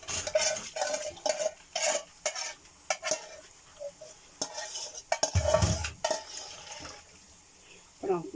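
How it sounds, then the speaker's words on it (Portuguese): A spoon stirs and scrapes in a cooking pan while fried merrinhos and stuffed hamburgers are made Azorean style, giving repeated clinks and scrapes, some sizzling, and a louder rough burst in the middle. "Desculpa aqui o barulho com esta colher aqui na panela"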